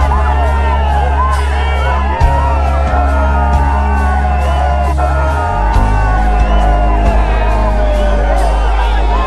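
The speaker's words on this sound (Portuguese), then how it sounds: "A multidão aplaudiu emocionada." A crowd applauds and cheers with emotion at a public reception for Brazilian president Bolsonaro as he lifts a young boy onto his shoulders, a dense, loud wash of shouts, whoops and clapping that continues throughout.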